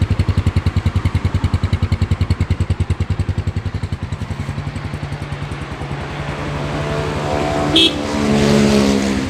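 A stock Phantom 200 motorcycle in good running condition idles with a steady, close, rhythmic thump. It then rises into a smoother, louder rev toward the end, with no voices over it.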